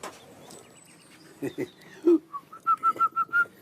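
A pet bird in a home chirps near the end, giving about five short, evenly spaced whistled notes close by, after a stretch of quieter household noise.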